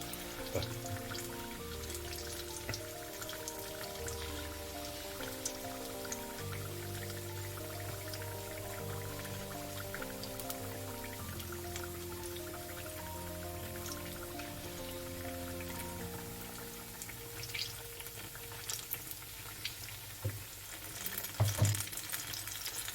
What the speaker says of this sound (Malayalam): അങ്ങനെ എല്ലാം ഇട്ട് കൊടുക്കുക. അത് ഫ്രൈ ആവുന്ന പോലെ തന്നെ നമുക്ക് വെയിറ്റ് ചെയ്യാം.